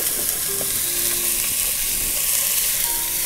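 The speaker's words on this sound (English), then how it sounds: "You want to get your olive oil nice and hot, and then you're going to take some freshly chopped onion and sprinkle it into the pan" Freshly chopped onion sizzles in hot olive oil in a pan, a loud, steady crackling hiss with a few faint tonal squeaks, close up and uninterrupted by speech.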